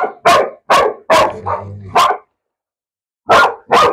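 A female dog barking hard at close range, seven sharp loud barks in two bursts separated by a silent pause, with a brief low growl between the early barks.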